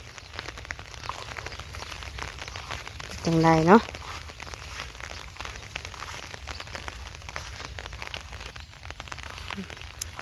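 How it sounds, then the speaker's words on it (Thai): Heavy rain pours steadily on a rural farm, a dense, even hiss with patter throughout, while someone talks briefly in the middle. "บาดนี้ฝนตกห้ำเลย"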